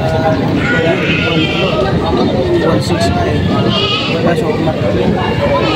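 Small native Tagalog goats bleat several times in a busy outdoor setting in Padre Garcia, Batangas, their calls rising over steady background chatter and noise.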